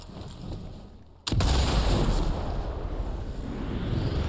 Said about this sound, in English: Cannon's definitely doing its job here.